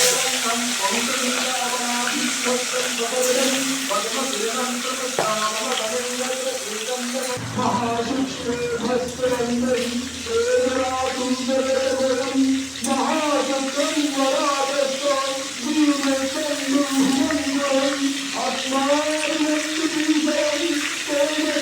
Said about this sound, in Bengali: সর্ষের তেলটা গরম হয়ে গেছে এখন মাছগুলি দিয়ে দেব